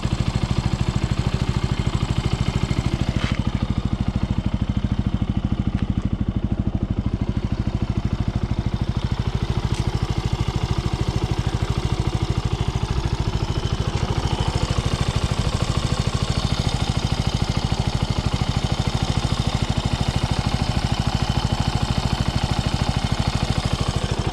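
A Benelli TNT 125 motorcycle engine idles close by, a steady, even putter and mechanical clatter that holds unchanged for the whole stretch.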